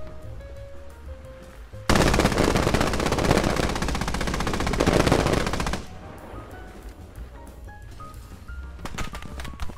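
Automatic gunfire in the video game Squad bursts out in a loud, sustained, rapid stream lasting several seconds, then gives way to quieter scattered shots and ambient battlefield noise.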